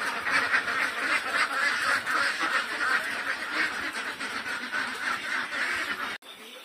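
Itik Pateros ducklings in a brooder tube quack constantly as a dense, busy chorus of many small voices, close and loud throughout, ending with a brief knock.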